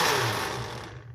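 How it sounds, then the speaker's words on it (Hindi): An electric grinder blending an egg, milk and bread mixture, a loud whirring burst close up that winds down and fades within about a second. "तो ये अब मैं इसमें डाल के तो फिर दोबारा से इसको ग्राइंड करने लगी हूँ"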